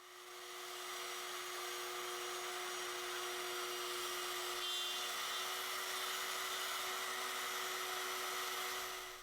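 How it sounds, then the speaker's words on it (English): A multi-router cuts mortises into the ends of walnut apron stock for a hall table, giving a continuous, even high-pitched motor whine with a steady cutting hiss, close and unbroken throughout, no voices. "go back to the multi-router to cut mortises in the ends of our apron stock"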